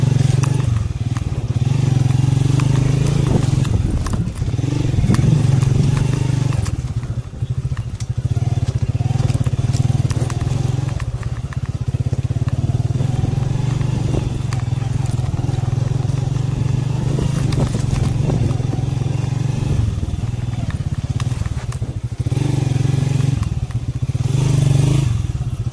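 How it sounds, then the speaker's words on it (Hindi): Motorcycle on a rough dirt hill track rumbles loudly and continuously, with clattering, scraping and thumps from the bumpy ground throughout and a brief dip in engine sound partway through. "यहाँ से समझ के निकालनी पड़ती है बाइक।"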